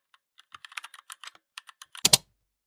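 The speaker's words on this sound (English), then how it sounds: "So I'm going to type here password of this account," Fingers type an account password on a computer keyboard, with a dozen or so light, uneven close keystrokes followed by two louder, heavier key presses at the end.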